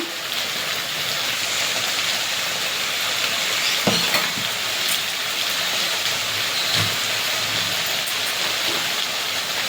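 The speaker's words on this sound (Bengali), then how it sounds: "লঙ্কাটা ভালো করে কষিয়ে নেবো লঙ্কা বাটা দিয়ে।" Ripe red chili paste fries in a pan, giving off a continuous close sizzle with occasional soft stirring knocks and no voices.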